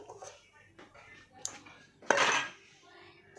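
In a home kitchen, a rice pot and metal utensils are handled, producing scattered light clinks and taps followed by one louder clattering scrape, set against a quiet background.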